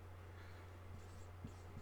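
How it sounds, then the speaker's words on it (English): Pen writing a date on paper, a few faint soft scratchy strokes over a low steady hum, quiet and close, no voices. "I'll write the date on here."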